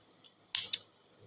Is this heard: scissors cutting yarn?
yes